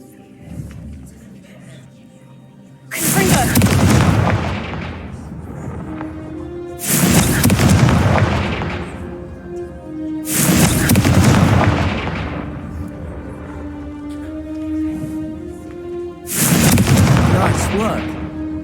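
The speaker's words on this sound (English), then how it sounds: "a Confringo cast travels a bit farther than that of a spell like Incendio" Confringo fire spells blast in Hogwarts Legacy as four loud, booming explosive bursts spaced a few seconds apart, each fading into a rumbling tail over quieter game ambience.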